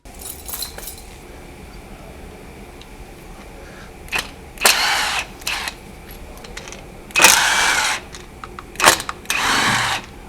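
Duratech cordless impact wrench spinning a bolt off, several short loud whirring and rattling bursts separated by pauses, close by with no talk.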